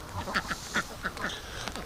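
Ducks on a farm, near a barn where duck and goose eggs are hatched, give a run of short, nasal quacks at an irregular pace, fairly close and moderately loud.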